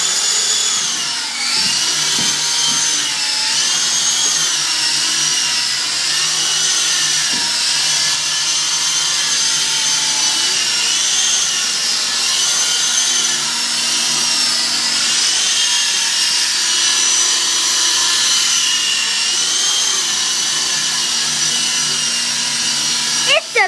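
A small Syma Chinook toy RC twin-rotor helicopter flies indoors in a living room, giving off a steady, close high-pitched motor whine that rises and falls in pitch as it manoeuvres, continuous throughout.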